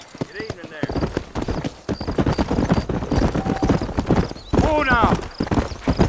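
Horse hooves clip-clop in a steady, rhythmic trot in the game Red Dead Redemption, clear and close under almost continuous talking, with a brief whinny.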